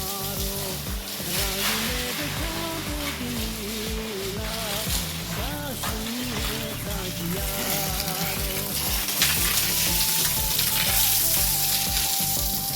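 Water sprayed from a hose onto a reinforced-concrete (RCC) building to cure it gives a steady, loud broadband hiss and splatter throughout, with tonal background sounds running underneath.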